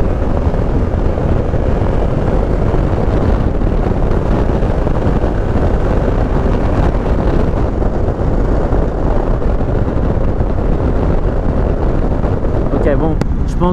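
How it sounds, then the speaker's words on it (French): Loud, constant wind roar buffeting the microphone while riding a Yamaha Ténéré 700 motorcycle at speed in town, with a low engine drone blended underneath. "Il y a quelques turbulences, d'où le bruit"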